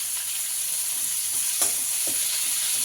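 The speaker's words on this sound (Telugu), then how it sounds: "ఇప్పుడు కట్ చేసిన ఆనియన్స్ క్యాప్సికమ్ వేసుకుందాం." Chopped onions and capsicum frying in a pan, a steady dense sizzle close up with a couple of faint stirring scrapes and no talk.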